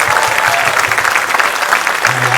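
Families at a 4th grade winter concert clap for the school orchestra, a loud, full round of applause that carries steadily throughout, with faint audience chatter underneath and a brief low tone near the end.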